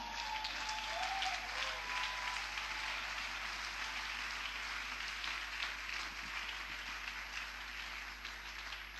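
A church congregation applauding the King of Kings: sustained, dense clapping from many hands, loud and even, continuing without a break.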